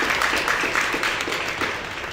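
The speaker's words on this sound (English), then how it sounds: "Big applause for him as well" A steady wash of audience applause at a design night event, honouring Paul Fernandes, sustained at an even level throughout with no clear voices on top.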